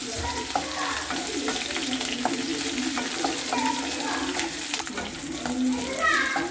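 Curry leaves and green chillies sautéing in a pan for a lady's finger kuzhambu, giving a steady moderate sizzle with occasional stirring scrapes and faint background speech.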